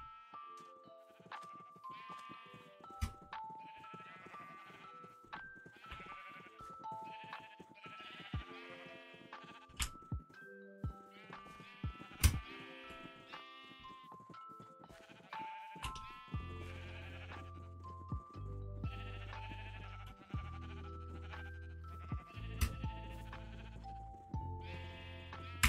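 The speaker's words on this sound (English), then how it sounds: "All the sheep are out." Repeated sheep bleats from a Minecraft game, many short calls overlapping across the whole stretch, over game music and sound effects, with a deeper droning layer joining in the second half.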